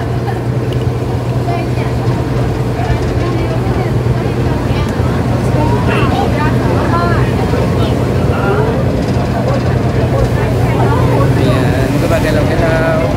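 A river boat headed to Wat Arun in Bangkok carries its passengers with a loud, steady engine drone and water wash throughout, while people talk over the constant motor rumble.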